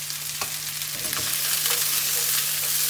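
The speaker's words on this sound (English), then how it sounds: "I just have to saute them to the extent that the rawness goes off and they are translucent." Fresh red chilies sauté in a pan with an even, close sizzle, a few utensil stirs scraping through, and a steady low electrical hum beneath; no one speaks.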